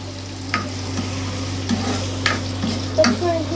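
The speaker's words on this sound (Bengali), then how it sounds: "পেঁয়াজটা ভাজা ভাজা হোক" Onions frying in a pan for potato dal sizzle steadily while a utensil stirs and scrapes in several distinct strokes over a constant low hum, close and fairly loud.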